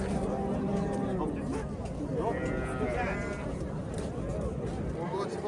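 Large goats bleating among sheep at the Angren livestock market, several bleats over a busy crowd with voices talking throughout.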